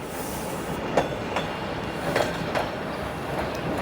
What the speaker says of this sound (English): That might be the very train that I take eastbound back to the city.